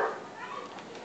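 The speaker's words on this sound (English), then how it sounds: "There's a really annoying dog. Will not stop barking." A dog barks persistently in Assassin's Creed 3, a steady, moderately loud game sound heard alone with no talk, running for about a second.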